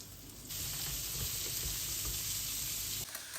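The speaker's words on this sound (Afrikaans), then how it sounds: "Ons gaan eerstens die eie in die olie tot goudbruin en deurskynend braai." Onions sizzling in hot oil on a stovetop for a lamb neck curry, a steady close frying hiss that swells after a brief quieter start and drops off near the end.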